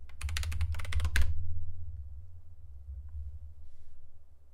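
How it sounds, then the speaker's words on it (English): Rapid keystrokes on a computer keyboard at a command line, a dense burst of close clicking for about a second that then stops, leaving a low background hum. "I'm typing in the command line."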